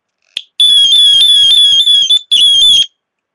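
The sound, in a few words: personal security alarm siren after pulling its string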